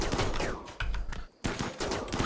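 Rapid gunfire in the video game RimWorld, shooting down infested ship chunks, a loud dense fusillade with a brief pause midway before the shooting resumes.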